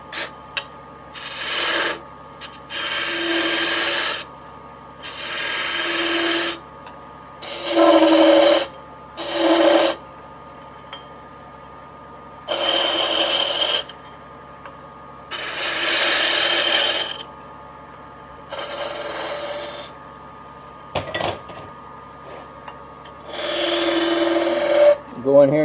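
Woodturning tool, a skew used like a scraper, cutting a spinning wooden draw knife handle on a lathe, giving repeated rasping, scraping bursts of a few seconds each, separated by short pauses, close and fairly loud.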